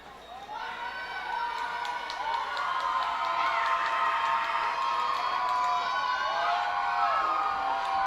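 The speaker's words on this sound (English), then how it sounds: "Crowd going wild here." A minor-league baseball crowd at a Reading Fightin Phils game against the Altoona Curve cheers and shouts in a steady, swelling roar, with whistles and voices rising above the mass of sound.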